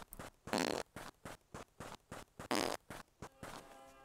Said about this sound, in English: You ate some food, your heart got a little dark, you fart.